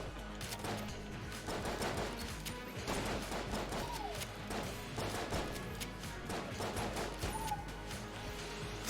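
Rapid bursts of gunfire and explosive pops from a grenade launcher in the video game Enter the Gungeon, dense and continuous throughout with crashing impacts layered over game music.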